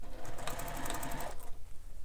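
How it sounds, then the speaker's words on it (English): A sewing machine stitches a bag seam in a steady, fast whirring run that stops near the end, leaving a quieter tail, with no voices. "using your stitch length you like to use when you sew a bag together"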